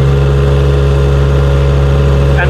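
A 1.2 ton mini excavator engine runs at max throttle, a loud, steady, close drone with strong low hum, unbroken throughout.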